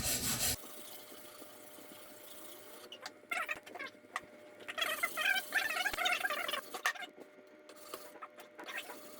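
A Maestro Wu H-2 kukri blade scrubbed back and forth on a sharpening stone clamped in a Jende knife jig, giving close, rasping strokes in irregular bursts that grow busier toward the middle.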